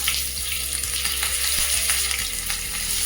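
Mustard seeds, cumin, asafoetida and curry leaves sizzle in hot oil: a dense, close crackle with sharp pops and occasional stirring, and no voices.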